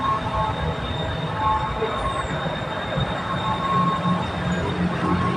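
A BTS Silom Line skytrain pulls into platform 3 of Saphan Taksin station with a continuous loud rumble, faint wheel squeal and a steady hum, heard up close.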